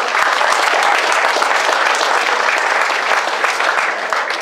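Dense, steady applause from a large audience at a rugby league club's awards presentation night, loud and sustained throughout with no talk over it.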